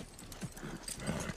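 Horse hooves clip-clop at a steady walking pace, a few distinct hoof falls over a soft outdoor background, no talking.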